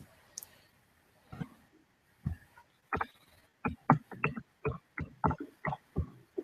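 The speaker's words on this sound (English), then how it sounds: "I'm typing it." Sparse, irregular clicks of typing on a computer keyboard, close and fairly quiet, picking up into a quicker burst of keystrokes toward the end with no talk.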